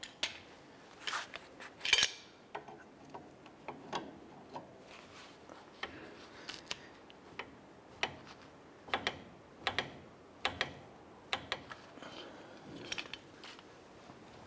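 Tightening an inner tie rod onto the steering rack of a 2011-2018 Ram 1500, with faint, irregular metallic clicks and taps from the tool and parts, close by and quiet, with no talking.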